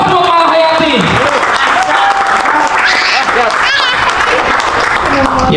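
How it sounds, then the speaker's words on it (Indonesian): An audience at a training event breaks into loud, sustained applause, dense clapping close by that fills the whole stretch, with voices calling out over it. "Aplaus buat Malahayati"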